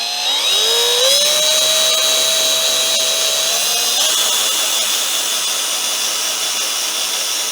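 A power screwdriver drives screws into a homemade cat scratching post, its motor whining loudly and steadily, rising in pitch as it speeds up, with no talking.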